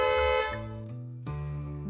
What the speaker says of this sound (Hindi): तभी गाड़ी का हॉर्न।